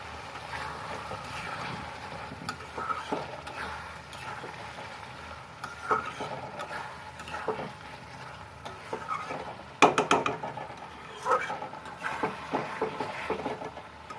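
Spice paste for an egg curry sizzles and fries in a pan, a soft continuous crackle broken by occasional louder scrapes and stirs, with no talking.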